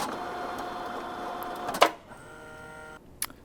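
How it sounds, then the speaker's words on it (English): An HID Fargo HDP6600 card printer runs through a test card, a steady mechanical whir and hum with a sharp clack near the middle, then a sustained motor tone and a final brief click, close and alone. "We're going to print a test card from our 6600"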